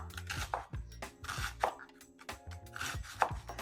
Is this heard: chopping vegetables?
yes